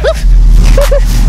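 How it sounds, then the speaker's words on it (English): A dog barks and yips a few times in quick succession, loud and close, with a short whimpering tone between barks. "stupid dog over there"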